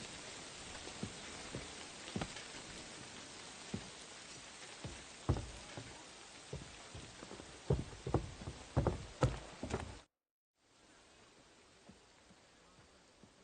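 Rain falls in the Kingdom Come: Deliverance II game world as a soft, steady hiss with scattered louder drops and taps, briefly cutting out to silence before resuming fainter.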